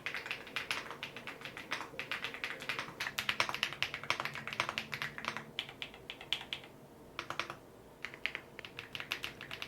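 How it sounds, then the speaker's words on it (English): Dense, rapid mechanical keyboard typing on hot-swappable vintage white switches with multiple layers of foam, close and crisp, with bursts of keystrokes and a short pause near the end. "It has hot swappable vintage white switches and multiple layers of foam for that insane thick sound"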